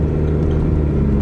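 Toyota Camry with a 2.4L four-cylinder engine running steadily as the transmission goes through its gears; a continuous close engine drone with no voices, plus a brief bright burst right at the end.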